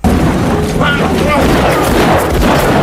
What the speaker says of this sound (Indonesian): tembakan-tembakan dari anak buah Stavros di bagian bawah